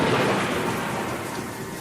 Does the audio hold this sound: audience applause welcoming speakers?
no